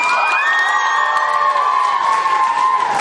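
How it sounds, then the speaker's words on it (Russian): Children at a summer camp sports comedy contest cheer, shout and whoop as a loud, steady crowd roar that runs unbroken for the whole stretch, with no clear individual claps standing out. "Аплодисменты."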